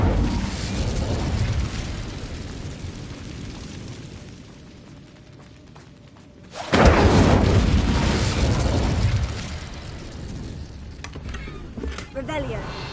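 An Incendio fire spell bursts out in the Hogwarts Legacy video game, a loud roaring whoosh after a quieter stretch of game ambience, then fading into further crackling and clatter.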